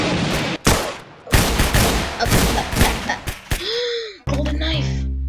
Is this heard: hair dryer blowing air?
no